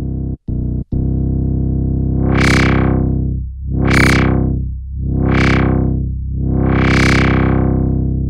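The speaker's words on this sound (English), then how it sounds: "switching from the clean filter mode to one of the analog models that gives us a drive or distortion control." A sample played through Ableton Live's PRD analog filter model with increased drive, a loud distorted buzzing tone whose filter sweeps open and closed in four slow swells after a few short stuttering cuts.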